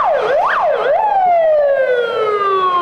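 Fire engine sirens wail loudly and close during a fire drill at the Dagomys resort complex in Sochi, first rising and falling in two quick sweeps, then switching to a long, steady descending tone.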